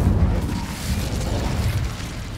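Incendio fire spell cast in Hogwarts Legacy, a low rumbling whoosh of flame with a soft boom at the start that holds steady and fades slightly, heard alone.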